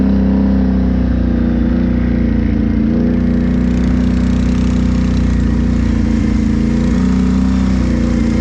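A Renegade ATV engine runs loud and close as the machine pulls away, with a steady rumbling drone and a slight rise in revs partway through.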